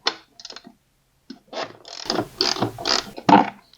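A hand ratchet works a bolt loose on a Yamaha TTR230 dirt bike, giving a few short bursts of rapid clicking that grow into a louder, steadier run of ratcheting close by, with no talk.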